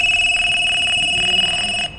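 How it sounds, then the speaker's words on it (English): A telephone rings on an incoming call dialed through a GSM module, a loud continuous electronic trill sustained for about two seconds before cutting off. "Once I dial number, it will ring."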